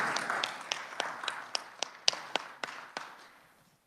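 Guests seated in the Senate chamber get a round of clapping: a scattered, fairly faint patter of individual claps that builds a little and then trails off within a few seconds.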